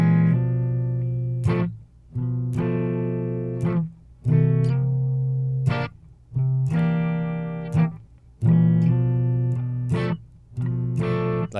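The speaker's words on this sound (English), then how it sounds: "it always sounds good to slide into a chord" Electric guitar with a distorted blues tone sliding up into a 9 chord, strummed chords ringing out several times with brief gaps between them.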